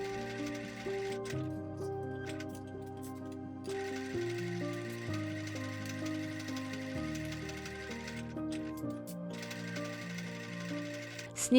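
A sewing machine stitches fabric lining pieces, running in a continuous mechanical whir with a steady pitch that shifts between sections, fairly quiet and close, with no voices.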